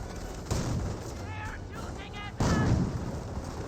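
Mortar half-track barrage in the Company of Heroes real-time strategy game, two heavy booming shell impacts landing about two seconds apart over continuous battle noise, with a voice talking over the action.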